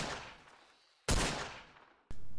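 Gunfire in the video game Garry's Mod: three sharp, loud shots spaced about a second apart, each with a decaying tail, no talking.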